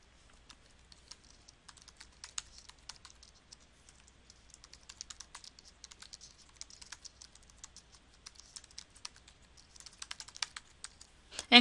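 Steady typing on a computer keyboard while entering a test question, with light, fast, irregular key clicks continuing throughout and a few louder taps near the end, with no talking.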